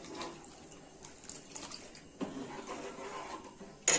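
Water is poured into a pot of bean sambar being cooked, a faint, uneven splash and trickle with small clinks and a sharp knock at the end.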